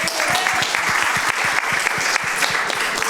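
Residents of a seniors' home applaud together at an Easter gathering, a dense steady round of clapping close by that fills the whole moment, with faint voices underneath.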